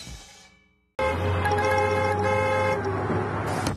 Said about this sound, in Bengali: হর্ন বাজানো ওয়ালা পাপি